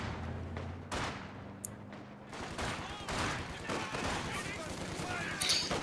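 Machine gun fire rattles through a competitive two-versus-two strategy video game match, with bursts and scattered shots under an ongoing commentator voice.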